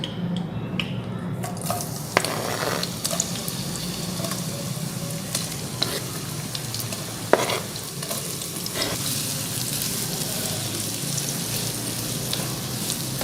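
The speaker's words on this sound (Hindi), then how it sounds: "मीडियम फ्लेम पे फ्राई करें।" Sliced onions fry in melted ghee in a pan over medium flame, a loud continuous sizzle with occasional spoon stirs and scrapes close by, no speech.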